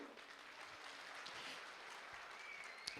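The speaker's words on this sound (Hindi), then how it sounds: "जोरदार ताली" Loud, continuous applause from a large audience at a public talk in Nagaur, Rajasthan, a dense steady wash of clapping holding at an even level for the whole stretch without pause.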